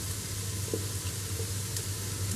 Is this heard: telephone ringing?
no